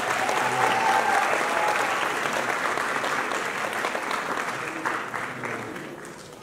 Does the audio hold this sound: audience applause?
yes